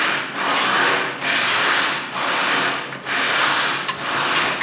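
Hand tap cutting threads with improper lubricant on a Nissan Frontier radiator job, heard as repeated rasping metal-on-metal grinding strokes in close, regular pulses with brief pauses between turns.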